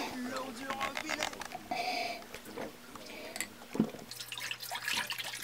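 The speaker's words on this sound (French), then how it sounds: "De l'eau d'évier, disponible dans tous les robinets." Water runs from a kitchen sink tap, trickling and dripping close by with faint splashes, with quiet voices.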